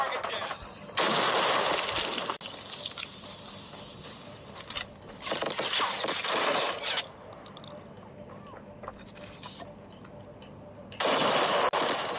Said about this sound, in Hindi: ऑटो गन से